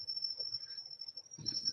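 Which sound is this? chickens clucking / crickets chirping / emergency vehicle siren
crickets chirping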